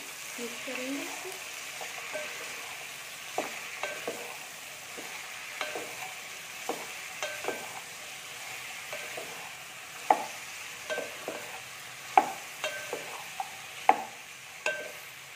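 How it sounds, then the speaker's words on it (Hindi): Okra stirred with spices in a frying pan, a steady soft sizzle beneath repeated scraping clicks of a spoon against the pan, growing sharper and louder toward the end. "अब हम इसमें अपने सारे मसाले ऐड कर देंगे भिंडी समेत। अच्छे से चलाएंगे, मिक्स करेंगे इसको।"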